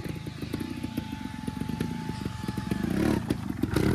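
A trials motorcycle lifts onto an obstacle during a training session, its engine putting out a steady throbbing idle, then revving hard and clattering near the end, close and loud.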